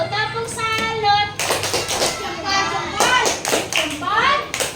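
Class of schoolchildren doing a rhythmic clapping chant, short bursts of claps in a patterned beat alternating with young voices chanting together, close and lively.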